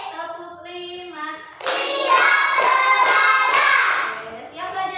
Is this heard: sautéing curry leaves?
no